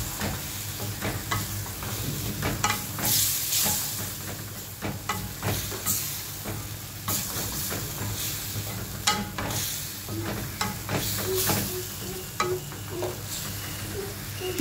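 Shrimp sizzle and fry in a cooked-down spice paste, a steady close hiss broken by repeated scraping stirs of a spoon in the pan, with no talking.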